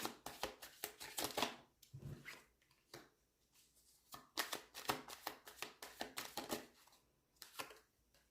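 Tarot cards shuffled and drawn by hand: quick bursts of riffling and flicking in uneven clusters, close and fairly faint, with short quiet gaps between handfuls and no voices.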